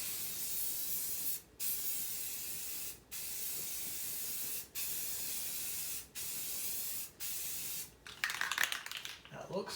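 An aerosol spray paint can hisses loudly in six regular bursts of about a second and a half each, with short gaps between them, while painting engine parts for a 1986 Ford 300 inline six rebuild. The clip ends in a rattling clatter.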